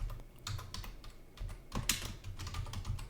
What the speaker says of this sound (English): So I have to type it out again.